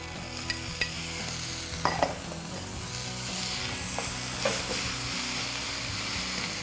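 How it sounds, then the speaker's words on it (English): Corn and tomatoes tumble into a pan of softened leeks, with a few sharp clatters and spoon scrapes over a steady sizzle that swells as the vegetables start to sauté, close and moderately loud. "now we're going to go ahead and add in the corn and the tomatoes"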